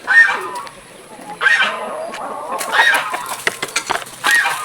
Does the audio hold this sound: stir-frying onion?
no